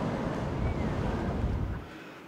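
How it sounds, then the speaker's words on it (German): Strong wind blowing over a sailboat at sea in the Kattegat, a broad steady rushing roar with wave wash, loud and continuous without talk. "Draußen saut es und der Wind pfeift"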